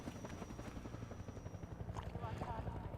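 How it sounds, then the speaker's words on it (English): A hovering helicopter in Half-Life 2 gives a steady, rapid rotor thump throughout, with occasional sharper sounds over it. "I'm being shot at by a helicopter"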